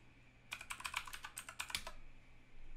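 Quiet computer keyboard typing, a quick close run of about a dozen key clicks lasting under two seconds, then stillness.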